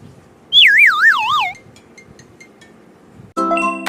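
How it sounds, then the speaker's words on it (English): A loud warbling electronic test tone from an iPhone 12 Pro Max buzzer sweeps up and down for about a second, then after a quiet gap a harsh buzzing tone starts abruptly. "Testing new buzzer. Sound detected."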